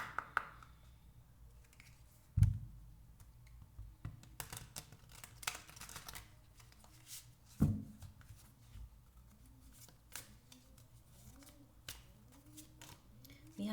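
Tarot cards are handled and shuffled quietly, giving soft papery rustles and a few sharper taps and slaps spread over several seconds in a hushed room.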